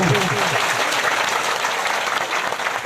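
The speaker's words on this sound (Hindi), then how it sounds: "बहुत ज्यादा बधाई के पात्र हैं चेतन माता जी। तालियां।" A crowd claps in sustained, dense applause at a Hindu religious discourse (Devi Bhagavata Katha), close and loud, with a voice speaking briefly in Hindi over the start.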